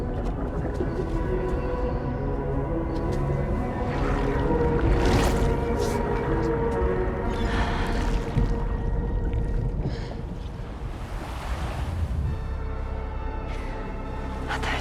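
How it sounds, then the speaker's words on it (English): Ocean waves washing onto a beach in the video game Death Stranding 2, a steady, full wash of surf with swelling surges, loud and continuous with no voices. "Waves?"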